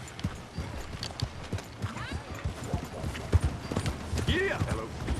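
Horse hooves clip-clopping in the video game Red Dead Redemption 2, a steady run of close, rhythmic hoofbeats with a brief whinny partway through and voices talking over them.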